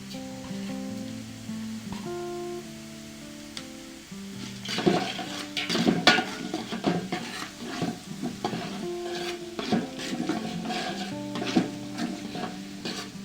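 Mustard seeds and cumin fry in oil for a chutney tempering. A soft sizzle grows into a busy, crackling spatter with popping bursts, close and continuous, while steady tonal music plays underneath.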